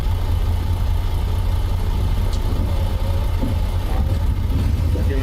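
A truck engine idles in American Truck Simulator, hauling eight tons of scaffolding in Alaska, giving a steady low rumble that holds throughout with faint incidental clicks and no talk.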